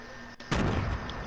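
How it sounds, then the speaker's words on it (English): A grenade blast in the video game Fortnite erupts suddenly after a quiet moment, a loud, close burst whose rumbling roar lingers to the end. "Throw a grenade in there!"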